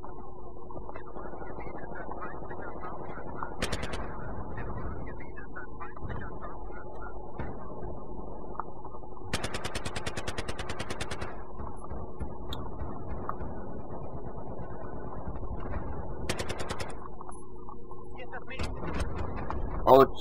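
Sharp sniper rifle shots from the Battlefield 3 shooter game crack out a few times at intervals, rising briefly above a steady in-game hum while someone talks almost throughout.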